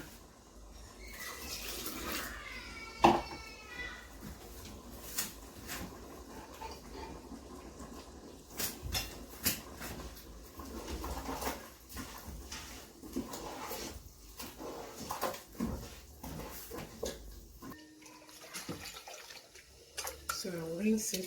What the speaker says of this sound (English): So I'll rinse it and pour in.